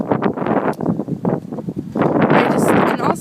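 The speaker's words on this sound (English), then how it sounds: "It's really windy here" Strong gusts of wind buffet a microphone outdoors in Nebraska, making loud, rumbling, uneven blasts that swell and fade, with a person talking underneath.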